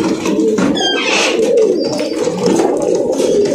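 Pigeons coo steadily in a home-bred pigeon loft, a dense, continuous near chorus of low throaty calls with a few higher chirps mixed in and no talking.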